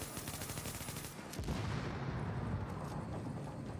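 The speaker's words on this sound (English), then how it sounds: "Burst fire MP5." Burst-fire MP5 submachine gun shots in Tom Clancy's The Division, a co-op looter shootout, sounding as loud dense bursts of gunfire with a heavy continuous rumble of battle noise.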